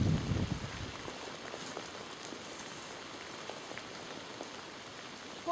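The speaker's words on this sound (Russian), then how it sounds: "Вот дождь кончается, видишь, уже все." Steady rain falling outdoors in a vegetable garden during a carrot harvest, a soft continuous hiss of drops on surfaces that holds even throughout, with a brief low bump at the start and no talk.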